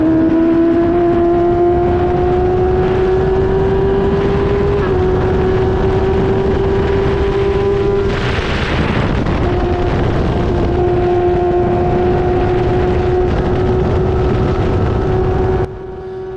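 An F1000 race car engine drones at high revs while lapping Silverstone close behind an F3 car, the pitch holding steady with brief dips as the driver lifts, then the sound drops away at the end.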